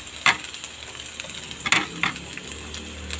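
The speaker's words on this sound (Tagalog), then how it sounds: "Fry ko na ito ang ating white onions" White onions stir-fried in a pan for sweet and sour chicken sizzle softly while a utensil scrapes and clinks against the pan in a few sharp, close strikes.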